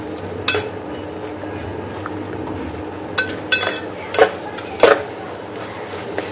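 Pav bhaji masala being stirred in a pan under a steady sizzle, with a handful of sharp spoon scrapes and taps against the metal.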